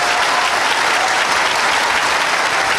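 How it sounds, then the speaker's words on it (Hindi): An audience in a hall in Bihar applauds at a public gathering, a loud, dense, unbroken wash of clapping from many people lasting about three seconds. "इन लोगों का तलिया सुनाई दे रहा है, और ये लोग दिल से बजा रहे हैं"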